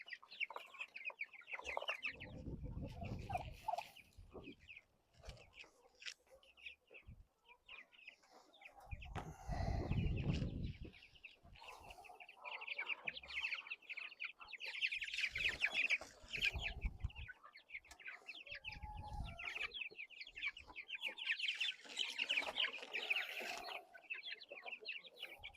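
Chickens housed in a converted rabbit hutch cluck and murmur continuously at close range, a soft, busy chatter of repeated clucks with occasional louder squawks and low thumps, fairly quiet overall.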